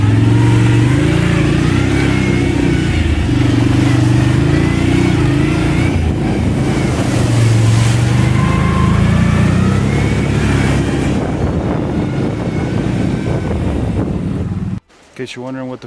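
Four-wheeler ATV engine droning steadily while riding a camping trail near Gould, Colorado, with wind noise, a loud mid-pitched hum that stays constant before cutting off abruptly near the end.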